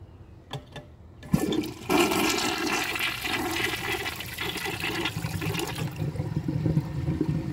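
A 2000 Mansfield Alto comfort-height 1.6-gallon toilet flushes close by, a sharp start giving way to a loud, steady rush of water that keeps roaring for several seconds before easing into refill.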